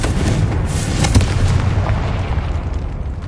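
A Confringo fire spell in a Harry Potter video game detonates as a loud, sustained explosive blast, with a dense rumbling burst that holds for over three seconds and no one speaking.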